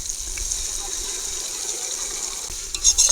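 A paste of ground coriander, ginger, garlic and coconut fries in a pan for egg biryani, giving a steady, soft, even sizzle with a few stirring scrapes near the end.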